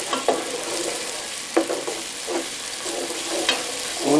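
Garlic and onion fry in a pan for a spinach stew, a loud, dense sizzle with repeated utensil scrapes and clinks as they are stirred, close up and continuous.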